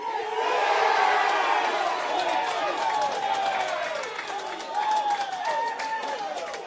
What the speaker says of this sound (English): I hear some cheering to our left